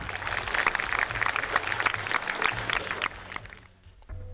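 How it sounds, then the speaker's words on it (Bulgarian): An audience at a Black Sea folk festival claps in a dense, continuous burst for about three seconds, then the applause drops away abruptly into near quiet. "Моля за вашите аплодисменти."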